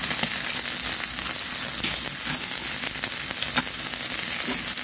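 Tomatoes frying in a pan for a budget egg dish, a steady dense sizzle with small pops and crackles running evenly throughout, close and fairly loud with no talking.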